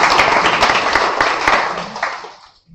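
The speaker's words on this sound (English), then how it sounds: "So a big round of applause for them." An audience at a corporate AI Appreciation Day event gives a round of applause, dense clapping that is loud at first and then thins out and fades to silence.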